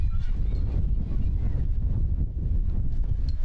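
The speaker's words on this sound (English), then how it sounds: "the gustiest of gusts of wind come in and cutting across Alumni Stadium here" Gusty wind buffets the microphone across Alumni Stadium in Guelph during a women's soccer match, a loud continuous low rumble with slight surges, with a commentator talking throughout.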